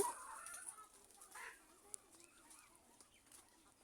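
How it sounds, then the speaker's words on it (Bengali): A big golden hen on a farmyard homestead clucks faintly in short, soft bursts at some distance, with quiet background ambience and no clear talk. "বাবা কি বড় একটা মুরগি"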